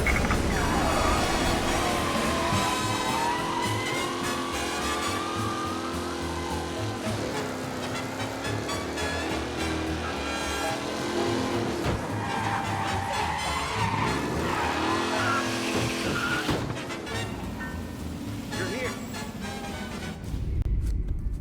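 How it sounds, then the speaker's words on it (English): A race car tears through city streets in Mafia Definitive Edition, the engine roaring and shifting pitch while tires squeal and skid through corners, loud and close throughout before cutting off sharply at the end. "Officers reporting a race car driving at speed through the city"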